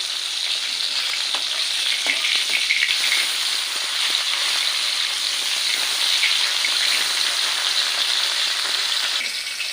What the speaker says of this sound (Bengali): মাছগুলো এক পাশ ভাজা হয়ে গেছে, এখন উল্টে নেবে।